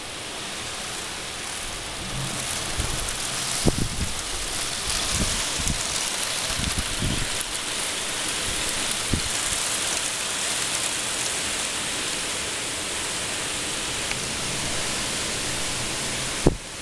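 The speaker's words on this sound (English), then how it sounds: "we're getting rain from the Nihonkai, the Sea of Japan right now" Steady heavy rain from Typhoon Hagibis in 2019 pours down in the mountains of Mie, Japan, in a dense, continuous hiss, with a few low thumps and rumbles scattered through it.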